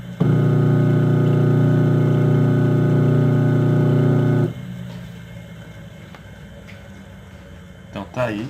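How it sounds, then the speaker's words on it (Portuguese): A small electric motor wired with a capacitor starts up right after being plugged into a wall socket and turns counterclockwise. A loud, steady harmonic hum holds for about four seconds and then cuts off, leaving faint room noise. "Ao ligar na tomada, o motor vai girar em um sentido."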